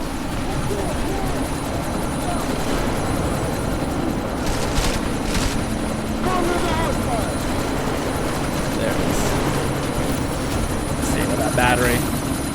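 A helicopter in the video game Deus Ex: Mankind Divided: a loud, continuous rotor and engine roar fills the scene, with gunfire bursts and voices talking over it.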